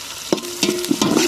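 Onion, mint and curry leaves go into hot oil in a village cooking pan, giving a steady close sizzle broken by a few quick spoon scrapes and stirs.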